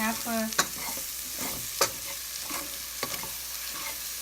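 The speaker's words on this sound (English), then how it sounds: "give it a quick fry and saute for another 1 or 2 minutes" Finely cut green chilies with salt and haldi sautéing in a pressure cooker pan make a steady sizzle, with sharp knocks and scrapes of stirring at irregular intervals and a brief whine at the start.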